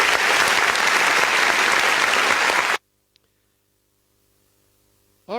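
Studio audience applause during a live show, a dense steady wash of clapping for almost three seconds that cuts off abruptly into near silence before a brief burst returns at the end.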